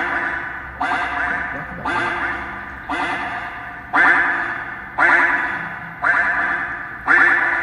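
A duck in the Roblox video game quacks during a chase, sounding as a run of eight loud, evenly spaced, echoing quacks about one second apart, each fading before the next.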